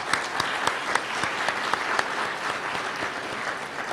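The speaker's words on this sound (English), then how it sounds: "let's take a moment to give them a round of applause" An audience at an awards ceremony for community service applauds vendors and helpers with steady, dense clapping that carries a few sharper individual claps, and it fills the whole stretch at an even level.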